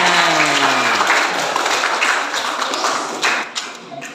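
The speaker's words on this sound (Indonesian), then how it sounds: "Tepuk tangan." A group bursts into applause for a first-place team, a busy clatter of hands at first with a brief voice at the start, then thinning and tapering off into scattered claps.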